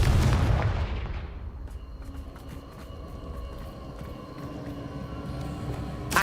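A single heavy explosion from the Confringo blasting spell in the video game Hogwarts Legacy booms loudly, then fades into a long rumbling tail with faint game ambience.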